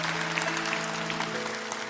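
A church congregation applauds for Jesus during a sermon, with broadband clapping over a sustained musical tone, steady and fairly loud throughout.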